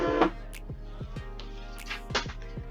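Thermal printer feeding out a shipping label, a rhythmic series of quick mechanical ticks and whirs at close range, with a few sharper clicks scattered through the run.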